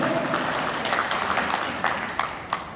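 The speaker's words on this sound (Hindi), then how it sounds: "महेश शर्मा जी के लिए जोरदार तालियां।" Applause from the audience at a poetry gathering in Chitrakoot, a moderate wash of clapping with a few sharper individual claps standing out toward the end.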